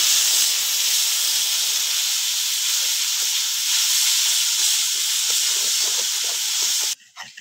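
A spice paste of turmeric, salt and ground spices with a little water sizzles steadily in hot oil for crab curry, a loud continuous hiss that cuts off abruptly near the end.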